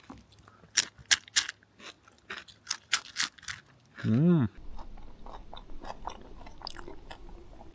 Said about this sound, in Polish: Od razu chrupnę sobie ogon.